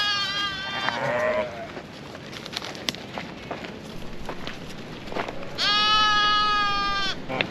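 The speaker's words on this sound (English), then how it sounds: "Suddenly there was a bunch of sheep and I'm like intruding in their path." Sheep bleat loudly in a wavering chorus at the start and again near the end, with scuffling hooves as the flock runs off a mountain trekking road in the Himalayas, Himachal Pradesh.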